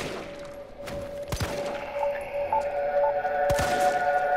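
Gunfire at a zombie in Resident Evil 3, with two loud shots spaced about two seconds apart over a steady game background hum and faint tones.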